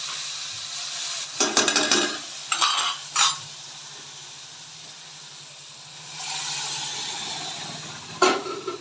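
Spoon scraping and stirring taro with red chili powder in a pan, brief clattery bursts of metal on metal over a soft steady sizzle, with quiet gaps in between.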